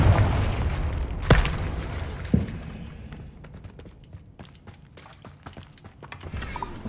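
Confringo fire spell exploding in the game Hogwarts Legacy, a sharp booming blast followed by a second smaller burst, then a fading rumble with scattered crackles and light footsteps.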